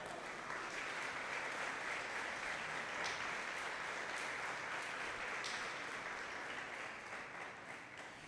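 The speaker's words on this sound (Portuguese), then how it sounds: "Quem diz um amém, dá um aplauso ao Senhor Jesus." A church congregation applauds for Jesus in a long, steady burst of many hands clapping, dense and even throughout with no voices standing out.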